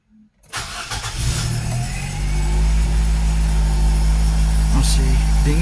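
A Nissan Grand Livina L10 automatic, engine still cold and part of its exhaust removed, cranks briefly and catches, then settles into a loud, steady idle up close, with brief voices in the background.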